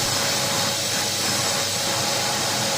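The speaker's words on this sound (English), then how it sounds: "I use a vacuum and vacuum both sides of the filter" A vacuum cleaner working over both sides of a washed air filter, a loud, steady broadband hiss and roar close by with no breaks.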